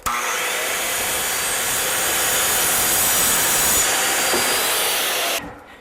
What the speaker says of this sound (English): Now when I go to cut this, I won't have a big piece falling down and binding my saw.